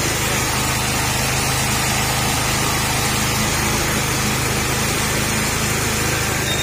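A car engine runs continuously while warming up after a thermostat bypass for overheating, giving a dense, steady, close-up mechanical roar with no breaks.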